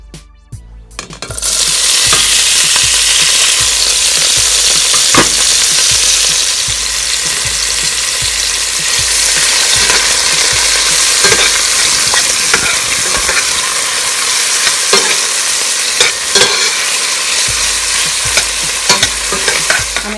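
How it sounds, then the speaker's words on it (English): Vegetables fry in oil in a pan, giving a loud, close, continuous sizzle that starts suddenly and runs throughout, with occasional clicks and scrapes from stirring and no talk. "I'm just basically putting enough oil in the pan so that I can start frying up my my vegetables"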